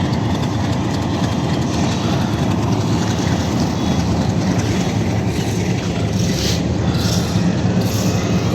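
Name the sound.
local train engine with wagons on railway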